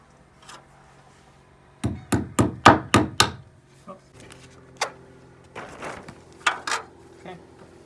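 A homemade hammer drives plastic-capped roofing nails: a quick run of sharp, close blows is followed by scattered single strikes and lighter taps, with a low background hum.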